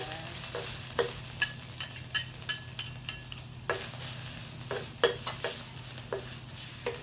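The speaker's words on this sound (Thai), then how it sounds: "ใช้ไฟอ่อนๆ เนาะ ก็จะกับดีบนิดนึงแล้วก็ผัดให้หอมซอง ผัดเครื่องให้หอมนะคะ" Spice paste is stir-fried in a pan over low heat, a soft steady sizzle broken by repeated sharp scraping strokes of a utensil against the pan, close and fairly quiet.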